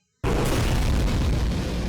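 Sudden loud explosion in a Skibidi Toilet video game, bursting out of silence into a sustained roaring boom that rumbles on and slowly fades, with no voices.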